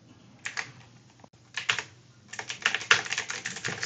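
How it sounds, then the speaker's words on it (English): Rapid typing on a school Chromebook keyboard, heard close and loud as dense bursts of key clatter separated by brief pauses. "See, I'm just spam typing."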